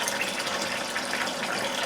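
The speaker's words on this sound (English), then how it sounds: "So I'm putting this in warm water." Dog chews used as rawhide for Comanche bead work are put into warm water, a steady close rush of running water filling a container, continuous and broadband with no voices.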